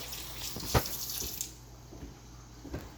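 Tap water runs steadily into a sink while hands are washed in a home kitchen, a soft close splashing with a couple of small knocks and no talk.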